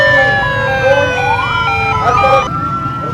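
A Rescue 1122 ambulance siren wails loud and close in a short burst, several overlapping rising and falling tones sweeping over traffic noise.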